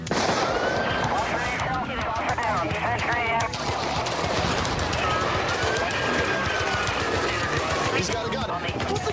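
Police officers open fire in a confrontation, a loud, dense crackle of gunfire running continuously under shouting voices.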